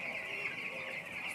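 Broiler chickens on a poultry farm cluck steadily as a dense, close flock, their overlapping calls forming a continuous chorus with no pauses.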